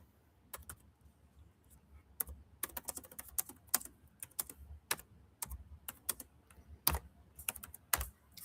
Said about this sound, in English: Just remember, I'm going to type this.